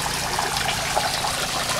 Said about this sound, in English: I think you need to turn the water off.